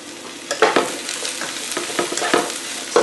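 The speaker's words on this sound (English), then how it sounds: "Saute." Bok choy and sweet potato vermicelli sautéed on high heat, a steady sizzle broken by sharp scrapes and clatters of stirring, with louder bursts at irregular intervals.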